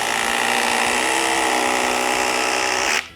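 DeWALT quiet impact driver spinning at its second speed setting, a steady loud high-pitched whir held continuously up close before it cuts off abruptly near the end.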